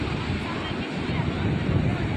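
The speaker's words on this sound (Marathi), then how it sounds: "पाण्याचा फ्लो इतका आहे की इथे उभं राहिलं तरी पाणी इथपर्यंत येतं" Strong rushing water roars in a constant broadband wash, loud and close, with wind buffeting the microphone throughout.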